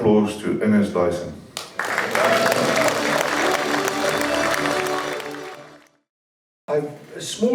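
A convention audience applauds an award winner, a swell of clapping under a presenter's voice that builds, dies away into a brief silence, then resumes.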